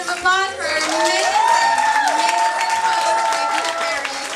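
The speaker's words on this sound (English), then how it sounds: "one more round of applause for amazing" An audience at an awards show applauds steadily, with cheering and voices mixed into the clapping.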